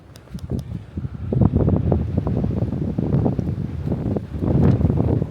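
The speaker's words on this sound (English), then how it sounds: "Alright, wind is kicking up." Wind on a blustery day buffets the microphone outdoors during work on a car, a rough, fluctuating roar of gusts rising and falling close up with no voices.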